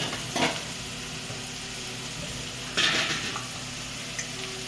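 Green chillies, four of them, tossed into a hot pan of guar bean vegetable, giving a sharp burst of sizzling over steady frying hiss, with an earlier brief crackle and a faint clink near the end.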